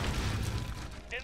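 Grenade explosion in Call of Duty: Modern Warfare multiplayer, a heavy low rumbling boom that rolls on briefly before tailing off, with a brief voice cue near the end.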